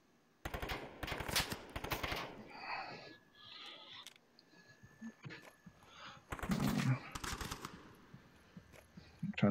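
Gunfire in a VR shooter video game: short bursts of sharp rapid shots near the start and again in the middle, separated by quieter gaps where someone talks.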